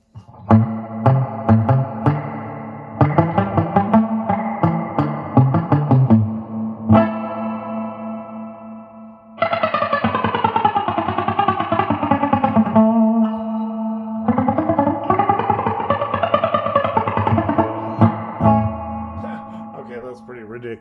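A Roland Cube 80X guitar amp's spring reverb is turned all the way up, so loud strummed chords and melodic runs wash into a dense, drippy, echoing tail that rings on between phrases.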